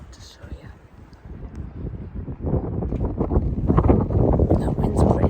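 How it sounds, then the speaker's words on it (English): Strong wind buffets an outdoor spot near a small campfire, a rumbling roar that rises and swells louder in the second half as gusts batter the microphone. "So very windy here today."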